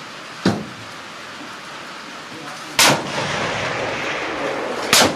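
.308 rifle fired at targets 1000 yards away, three sharp, loud gunshots spaced about two seconds apart, each followed by a lingering outdoor rumble.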